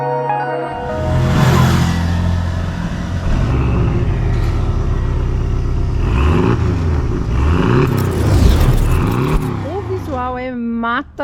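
Porsche 718 Cayman T with a 300 hp 2.0 turbo mid-mounted engine accelerating, a loud continuous engine roar rising and falling in pitch through several gear changes, close by throughout.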